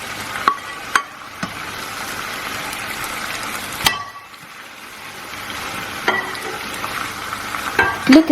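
Bacon going into a broccoli stir-fry with thickened Asian-style gravy in the pan, giving a continuous close sizzle with occasional sharp utensil clicks and scrapes, and no talking.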